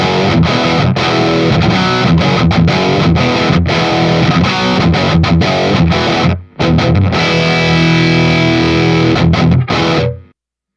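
Electric guitar through a plain mid-gain amp with no effects, loud and dense distorted chords and riffs played alone, with one brief break near the middle and a sudden stop at the end.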